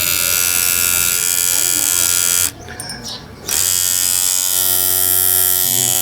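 A repaired Chinese electric hair trimmer runs close by with a loud, steady buzz, cutting out briefly for about a second midway before resuming at a slightly different pitch. Speech is likely mixed in.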